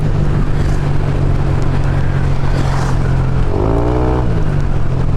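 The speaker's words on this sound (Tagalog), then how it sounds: "Maingay lang yung motor ko." A noisy motorcycle rides through rain on a Philippine road during a typhoon, its engine droning loud and close with a steady hiss and a brief rising rev near the end.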